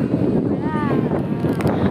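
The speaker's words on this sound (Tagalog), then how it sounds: "Oh my god, ang lakas ng hangin." Strong wind roars steadily into the microphone in cold, foggy weather at Tagaytay, a dense gusty rush with faint tonal whistles drifting through.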